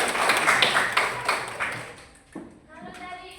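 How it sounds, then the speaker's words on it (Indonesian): Students in a classroom clapping together in a short burst of dense handclaps that dies away after about two seconds, followed by quieter room sound with faint voices. "tepuk tangan dulu"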